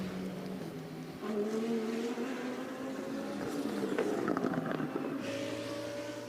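DTM race cars lap Zolder circuit in free practice, their engines holding a loud, steady drone with a pitch that climbs gradually through the run and no voices over it.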